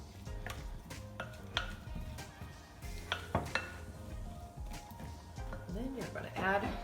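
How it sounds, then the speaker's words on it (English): Lemon-juice salad dressing stirred in a bowl for a summer squash salad, with soft scraping and clinking of utensil against the bowl, close and quiet, with a voice talking over it. "Next, you're gonna stir all of this together"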